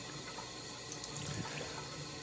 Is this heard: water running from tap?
yes